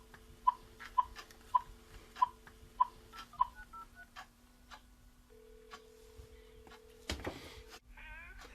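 Telephone dialing with DTMF tones on a rural phone system: a series of short evenly spaced beeps, then a brief pause and a longer steady tone, close and clear with no talk.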